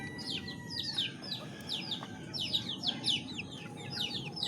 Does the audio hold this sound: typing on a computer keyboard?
no